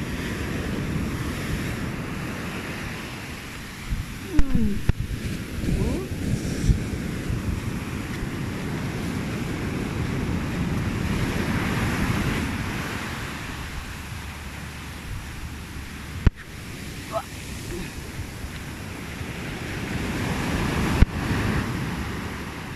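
Big ocean waves roll and break on a sandy beach, a steady broad roar of surf with gusts of wind buffeting the microphone, lasting throughout with a few sharper bumps.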